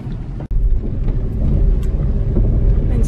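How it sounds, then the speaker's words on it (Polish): A car passing on a road on the island of Kos, a steady low rumble with road noise that holds fairly loud throughout, no voices. "Mnóstwo samochodów nas też mijało."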